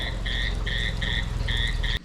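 Frogs croak loudly through heavy monsoon rain in a village, a rapid pulsing chorus of repeated calls over a constant hiss of downpour.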